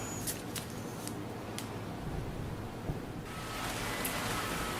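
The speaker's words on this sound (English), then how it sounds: "We're back and we have rain." Steady rain pours down as an even hiss, growing a little louder partway through, with a few sharp ticks and taps on top.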